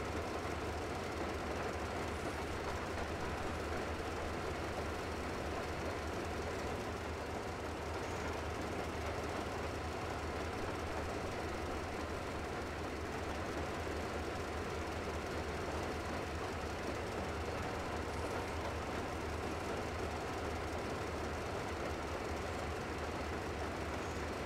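A train rumbles along continuously in the video game Metro Exodus, a steady loud drone of wheels and engine with faint rhythmic clatter and no speech.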